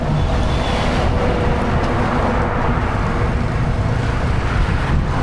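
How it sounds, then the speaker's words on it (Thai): Strong headwind buffeting a cyclist on an early-winter ride toward Kabin Buri, Thailand, heard as a loud, constant roar of wind rushing across the microphone with no let-up. "ขี่มานี่ก็ลมแรง แล้วก็สวนลมมาตลอดทาง"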